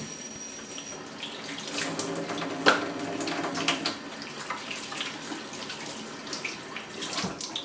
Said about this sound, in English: And I'll wash my hand.